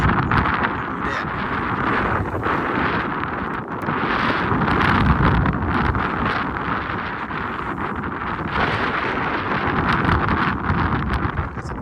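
A cool, dry mountain wind on Hua Lon mountain roars and buffets the microphone in loud, surging gusts that rise and fall with no voices over it.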